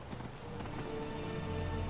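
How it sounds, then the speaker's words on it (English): Horse hooves clip-clop steadily at a gallop in Skyrim, the running beat continuous and fairly loud over a dense game background, with an occasional whinny-like tone mixed in. "the horse running animations in this game aren't half derpy"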